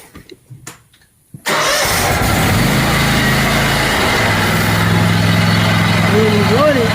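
A riding lawn mower engine fires up abruptly after a near-silent moment with faint talk, then settles into a loud, steady idle rumble that holds to the end.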